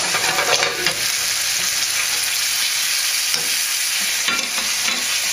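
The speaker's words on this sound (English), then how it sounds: "the oil is starting to heat up, starting to sizzle a little bit" Steady, loud sizzling and crackling of potatoes frying in oil in a hot pan, continuous throughout with a few stirring scrapes and no talking.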